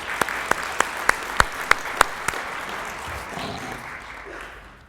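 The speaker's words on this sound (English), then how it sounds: "Give them all a round of applause" Audience applause at an awards event and annual meeting, a few sharp individual claps at the start that swell into steady clapping from the room before tapering off.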